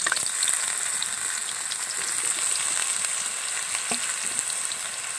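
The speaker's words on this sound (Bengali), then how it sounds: "আলুগুলো এবার খুব ভালোভাবে ভেজে নেব।" Potatoes deep-frying in hot oil in a kadai for vegetable chops give a steady, close bubbling sizzle with scattered crackles, running continuously with no talk.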